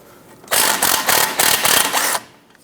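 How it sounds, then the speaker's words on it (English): A ratchet loosens a castle nut on the lower ball joint of a 1997-2006 Jeep Wrangler, making a loud, close, rapid clicking run of about a second and a half. "Go ahead, loosen and remove this castle nut."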